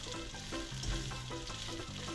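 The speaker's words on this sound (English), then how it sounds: "so just fry it up a little bit." Pasta and beef frying in a hot pan, a steady close sizzle with stirring scrapes throughout, no voices.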